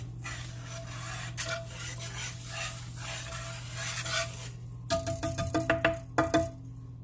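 A spoon stirs a chicken and rice casserole mixture in a pot. A steady soft scraping and rubbing runs throughout, then gives way to a run of sharper, rhythmic scrapes against the pot near the end. No one speaks.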